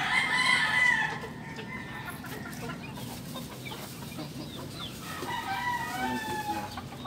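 Backyard chickens cluck and call in short bursts, loudest at the start and again near the end, over quiet outdoor background.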